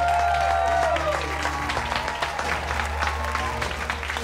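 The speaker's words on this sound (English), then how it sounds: "Give yourselves a round of applause." Cooking contestants in a busy restaurant kitchen applaud themselves after a service shift, scattered clapping over a steady low hum and background chatter and clatter, moderately loud.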